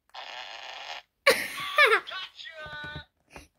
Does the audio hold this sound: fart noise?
yes